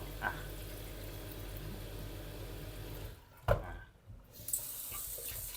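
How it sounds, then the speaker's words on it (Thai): Tap water runs into a pot while rice is washed in a home kitchen, a soft steady stream under quiet room noise, briefly interrupted by a splash and knock before flowing on. "แล้วก็เปิดน้ำล้างนะครับ"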